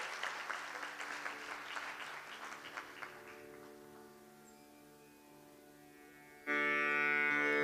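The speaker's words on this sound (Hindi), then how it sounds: "जोरदार तालियों से इन कलाकारों का स्वागत करें।" Audience applause welcoming performers at a thumri classical music festival, a crowd clapping that fades into a steady electrical hum, then a sudden louder swell.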